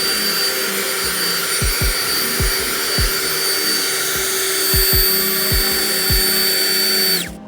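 A SNJORT cordless leaf blower runs close and loud with a steady high-pitched whine and broad airy roar, a few low thumps underneath, then it powers down and cuts off near the end.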